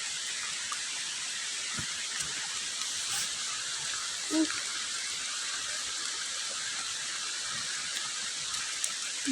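Steady rain falling outdoors while gathering termite mushrooms, a constant dense hiss of drops with a faint voice now and then underneath.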